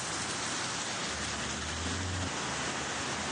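Heavy rain in Bengaluru hisses as a steady, dense wash of noise, with a faint low hum partway through and no voices.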